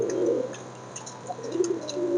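Soft, low cooing of Lakka (fantail) pigeons in a couple of murmuring phrases, with a faint hiss in the background.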